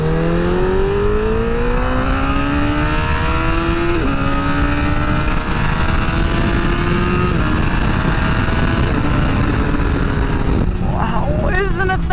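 Honda CBR1000RR motorcycle (2019, rebuilt after a wreck) engine revving under throttle, loud and close, pitch climbing in repeated rising sweeps as it accelerates through gears, with a brief sharp burst near the end.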